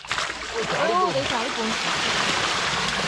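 Farmed fish jumping and splashing in a tarpaulin-lined backyard pond, with bursts of splashing water up close and someone talking throughout.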